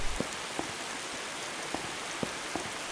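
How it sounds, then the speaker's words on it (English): Rain comes in through an open window as a faint, steady patter, with a few slightly louder drops landing at irregular moments, and nobody speaks. "It's raining in there."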